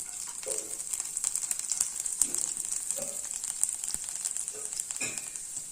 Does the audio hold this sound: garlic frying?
yes